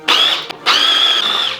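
A kitchen food processor whirring on a butter mixture, a loud high motor whine in two bursts separated by a brief stop, close and alone.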